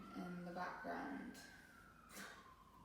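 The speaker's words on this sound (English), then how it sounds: "Nice relaxing siren in the background." Faint emergency siren wailing in the distance, a thin rising and falling tone behind a quiet indoor setting.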